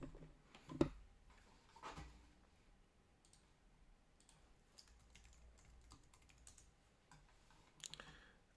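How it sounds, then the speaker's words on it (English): Quiet, irregular clicks of typing on a computer keyboard, with a few sharper keystrokes and short bursts of tapping spread across the stretch. "So let's type it in."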